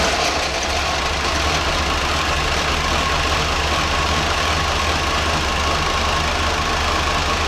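Chevrolet C10 Stepside pickup engine idling steadily with no throttle on a cold start, a continuous close rumble with a faint knocking texture, no voices.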